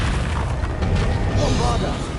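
A Confringo fire-spell explosion in the game Hogwarts Legacy, a loud continuous booming blast that rumbles through a short stretch of dense battle noise.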